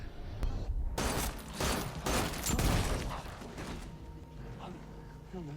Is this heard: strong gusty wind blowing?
no